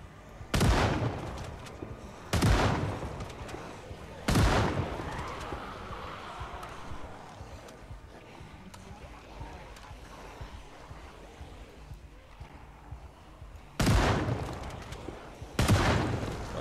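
Five loud shotgun blasts ring out in the Project Zomboid video game, two close together early, one after, then a long gap of low ambient rumble before two more.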